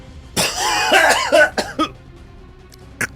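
A person coughs in a rough burst of several harsh hacks, followed by a couple of shorter coughs and a faint final one, close and loud.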